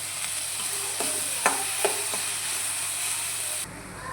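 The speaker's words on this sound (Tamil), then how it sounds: "இந்த மாதிரி வெங்காயம் நல்லா ப்ரௌனாக வதங்கி வந்ததுக்கப்புறமா" Onions sautéing with a little salt in a pan for egg thokku, giving a steady close sizzle with a few soft stirring scrapes. No voices are heard.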